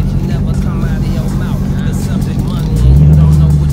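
A red 2019 Mercedes-AMG GT rumbles low and steady while being parked in a home driveway, its engine swelling louder near the end as it moves close by.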